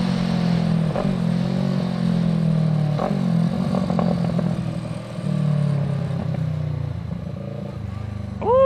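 A 2016 Kawasaki ER6F (Ninja 650R) with a quickshifter changes gears without the clutch, its steady mid-pitched engine drone broken by brief dips and clicks at each shift, heard close and continuous.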